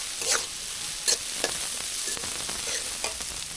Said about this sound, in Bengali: ঝাল পেঁয়াজগুলো ভালো করে ভেজে নেব, ভেজে তারপরে বেগুনগুলো দেব